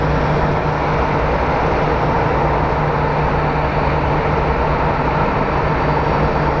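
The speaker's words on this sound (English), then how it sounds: "and a plane landing" A jet airliner lands at Phoenix Sky Harbor airport, its loud continuous engine roar filling the air without a break, broad and steady and close, with no talk.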